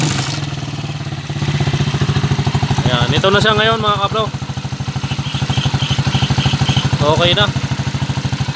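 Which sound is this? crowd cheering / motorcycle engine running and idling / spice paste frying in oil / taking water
motorcycle engine running and idling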